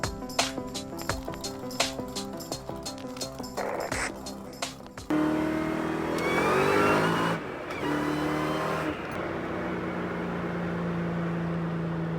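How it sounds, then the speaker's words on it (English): A supercharged Cobra engine clatters in rhythmic idle pulses nearby, then revs up with a rising whine and a sustained roar before settling back to a steady hum. "The car's running good."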